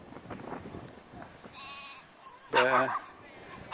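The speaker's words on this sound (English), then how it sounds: "The sheep in the moat area." Sheep bleating a few times in a castle moat area in Portugal, with one loud, drawn-out bleat near the end, over faint outdoor chatter and background noise.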